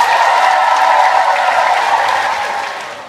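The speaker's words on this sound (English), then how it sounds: "give them a big round of applause" A crowd at the Qwanoes World Cup final applauds the French team, a dense, steady patter of many hands close by that holds strong, then gradually fades toward the end.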